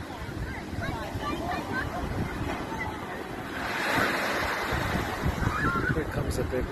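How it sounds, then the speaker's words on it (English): Ocean waves at Belmar, New Jersey, rush and churn continuously with wind buffeting the microphone, swelling louder midway as a bigger wave breaks. "there's a lot of waves still."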